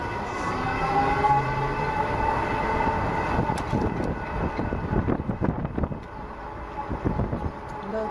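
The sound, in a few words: train passing by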